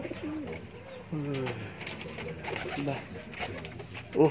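Soft, repeated pigeon coos in a low, throaty rhythm, with some rustling and faint background voices.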